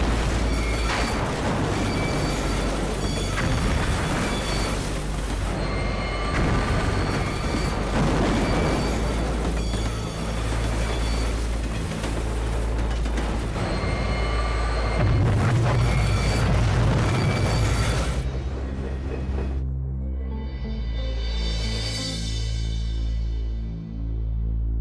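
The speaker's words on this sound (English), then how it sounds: "The tremendous impact destroys the train." A train hits a radioactive waste flask at 100 mph with a huge, loud crash: a long roaring, grinding wall of noise with booming impacts that cuts off abruptly, followed by a ringing, whooshing tail.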